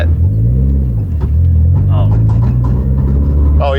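A Nissan S15 engine runs close by with a deep, steady rumbling drone and small rises in pitch, while people talk excitedly over it.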